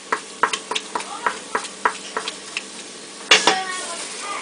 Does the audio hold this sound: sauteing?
yes